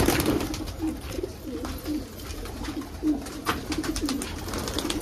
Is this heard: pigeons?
yes